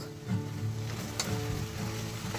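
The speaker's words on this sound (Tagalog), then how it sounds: "Let's cook our chicken until it's fully cooked." Chicken pieces sizzle steadily in a pan, still watery as they cook down. A soft, continuous crackle carries gentle, rhythmic stirring, with no voices.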